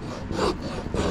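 Sandpaper rubbed back and forth over a hand-carved wooden wand, a close, steady rasping scrape in two or three strokes with no talking.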